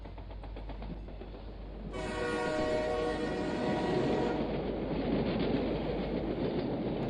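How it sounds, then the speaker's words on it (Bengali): A train horn blares near a railway station at night for roughly two and a half seconds, over the low rumble of a passing train that keeps rolling on afterward. "শেষ ট্রেনের সংকেত বেজে গেছে।"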